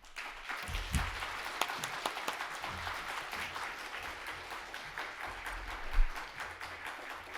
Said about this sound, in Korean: 목사님 나오실 때 힘찬 환영의 박수로 맞이하겠습니다